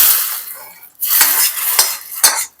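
Hot ghee tempering with mustard seeds tipped into a pot of Vellore rasavangi, with sharp metal clinks and scraping of a pan and ladle, a brief hiss, and several distinct knocks near the end.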